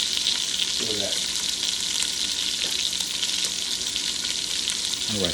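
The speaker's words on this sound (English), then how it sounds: "All right, so we're still frying." Celery frying in a pan over high heat gives a steady, dense sizzle and crackle that stays loud and constant throughout, with a couple of brief stirring sounds and no talk.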